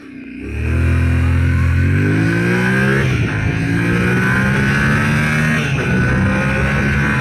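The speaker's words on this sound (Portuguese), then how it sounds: "Vou desligar o controle de tração agora. TCS off, ganhando um pouquinho de rotação." A Yamaha Tenere 700 motorcycle with traction control switched off revs and then accelerates hard. The loud, close engine tone climbs steadily in pitch, with a brief dip partway through as it pulls away, and no voices.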